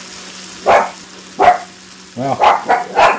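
A dog barks in several sharp, close bursts, spaced out at first and then quicker, with a brief spoken word at the start.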